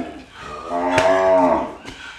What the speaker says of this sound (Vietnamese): Rất là to bò ha.